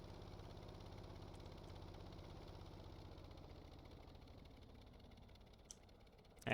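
An aircraft engine in the video game Stormworks throttles down, a low, faint steady drone that fades slowly toward the end before a brief louder burst at the very end.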